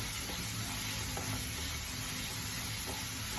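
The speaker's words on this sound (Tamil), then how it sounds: "இந்த பேஸ்ட்லாம் வதக்கிண்டு" A spice paste sautés in a pan for a green pea kurma, giving a steady, close, even sizzle and frying hiss with faint stirring underneath, no voices.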